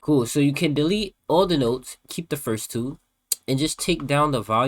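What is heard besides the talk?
No everyday noise stands out behind the speech.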